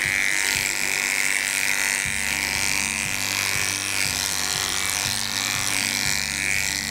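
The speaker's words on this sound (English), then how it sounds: "making sure the clipper work is nice and even and nice and smooth so I can keep going over that area" Electric dog clippers trimming a dog's coat into a teddy bear cut, a steady close buzzing hum whose pitch shifts slightly as the blades pass over the fur.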